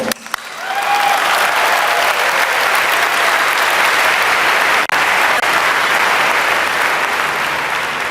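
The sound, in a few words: audience clapping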